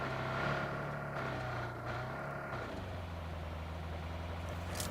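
A steady low car engine hum idles throughout in the mobile game PUBG Mobile, shifting pitch slightly midway, with no talking over it.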